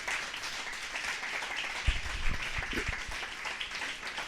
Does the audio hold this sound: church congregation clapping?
yes